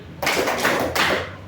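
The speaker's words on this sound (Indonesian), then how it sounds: "Tepuk 3 kali" A classroom of pupils claps in unison three times, each broad sharp clap evenly spaced with a short gap between, close and fairly loud with no talk.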